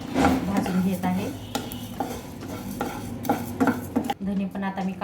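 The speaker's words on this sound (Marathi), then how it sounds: "हे धने पण मी आता भाजून घेत आहे" Coriander seeds being dry-roasted in a pan and stirred, a rhythm of scraping and rattling strokes with metallic clinks from the spoon against the pan, close and fairly loud.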